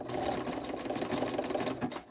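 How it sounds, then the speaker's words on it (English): A sewing machine stitching a seam closed on a small triangular tetrahedron bag, with a steady, rapid mechanical whirr that runs continuously at moderate level with slight pulsing, without talk. "So here we are on the sewing machine."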